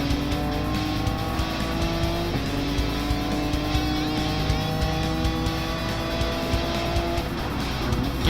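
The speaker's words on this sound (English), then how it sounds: "we are riding along with Hikari Taniguchi in his old GT500 GTR" A Nissan GT500 GT-R race car running on track in a racing video game, its engine droning steadily with rising and falling pitch through gear changes and a faint tire squeal, loud and continuous with no talk.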